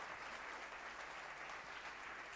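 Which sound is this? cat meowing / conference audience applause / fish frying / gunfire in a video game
conference audience applause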